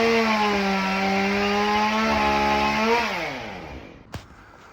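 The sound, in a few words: pole saw cutting an oak branch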